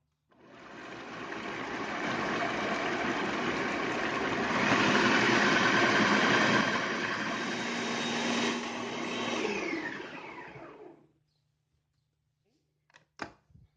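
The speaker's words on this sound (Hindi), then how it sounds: "दाल में मैंने 1 कप दूध का डालकर और इसे पीस लिया है" An electric chopper grinds boiled chana dal with milk in a loud continuous whirring drone lasting about ten seconds, then stops, followed by a few small knocks.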